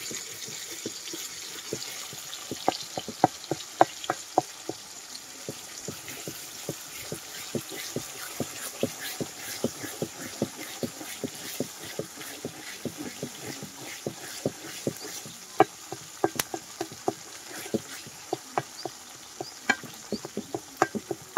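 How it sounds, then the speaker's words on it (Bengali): Spice paste for egg curry fries in a pan in a village kitchen, a low simmering sizzle broken by a long run of sharp, irregular spatula scrapes and clicks, close and quiet without talk. "ডিমের জন্য মশলা কষিয়ে নিচ্ছি।"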